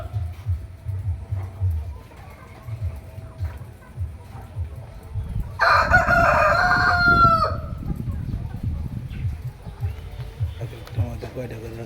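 Layer hens on a Bangladeshi poultry farm cluck and squawk, with a loud rooster-like crowing burst midway, over a low continuous background hum of the farm.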